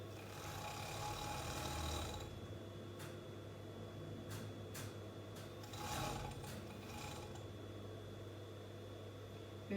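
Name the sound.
sewing machine sewing side seam of leggings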